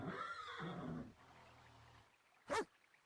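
A horse in a virtual world game, standing riderless without a saddle, gives a short whinny that follows a stretch of low, rumbling background.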